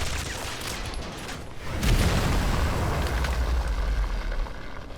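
Shotgun fire brings down a recon aircraft in the mobile shooter Modern Combat 5. Dense gunfire and booming explosions build into a loud, continuous roar with heavy low rumble.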